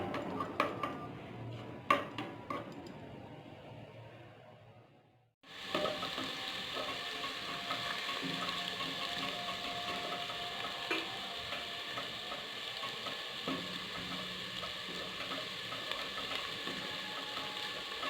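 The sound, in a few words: frying food on low heat until golden brown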